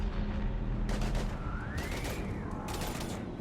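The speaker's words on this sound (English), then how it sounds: "We're taking heavy fire." Gunfire in the video game Mass Effect 3, with loud rapid bursts of shots and booms in a combat scene, broken by short pauses and laid over a low rumbling background.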